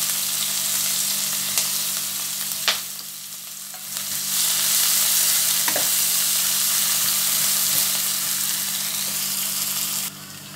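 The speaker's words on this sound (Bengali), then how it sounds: "পেঁয়াজটা ভেজে নেব।" A medium onion, chopped small, fries in oil over tempered spices for a Bengali shol fish curry. The sizzle is steady and close, with a few stirring scrapes, and it grows louder partway through.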